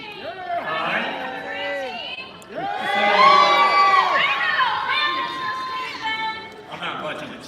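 Excited kids and adults at a family fun night game whoop and cheer in a loud, lively burst, with high shouts and rising calls swelling midway and continuing as overlapping voices.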